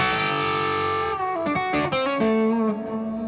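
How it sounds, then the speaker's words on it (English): Electric guitar through an amp and Lone Star 23 cabinet, with delay and reverb, holds a sustained distorted chord, then moves through several ringing notes that smear and trail into one another, loud and clear with no voices. "a little bit of delay and a little additional reverb"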